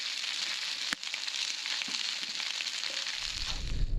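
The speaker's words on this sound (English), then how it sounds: "Just bacon, eggs and a couple of snags." Bacon, eggs and sausages sizzling in a pan over a campsite breakfast fire, a steady crackling hiss with a few sharp pops and scrapes, close and constant.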